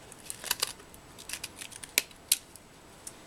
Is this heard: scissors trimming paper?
yes